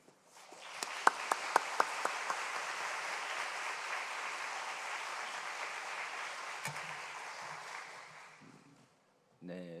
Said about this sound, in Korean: 나오실 때 박수로 우리 환영하겠습니다